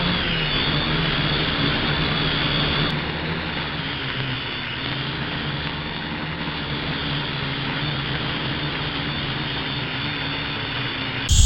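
A JJRC H11D FPV camera quadcopter drone flies with a steady, high buzzing whir of its propellers, loud and continuous throughout with only slight shifts in pitch.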